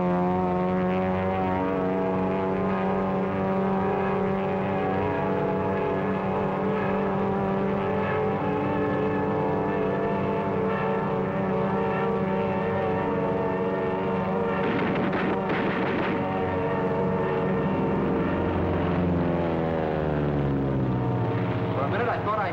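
Droning engine of a Japanese Zero fighter with a radial engine, blunt nose and stubby spinner, flying past as a steady harmonic hum with a pitch shift near the end, with a voice talking over it.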